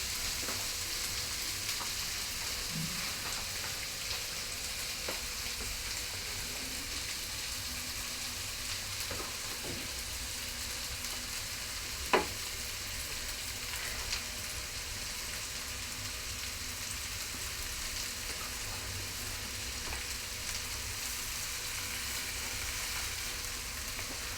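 Cauliflower fries in a pan with a continuous bright sizzle that stays even throughout. A few faint clicks and scrapes are heard, with one sharp utensil tap near the middle, and no talking.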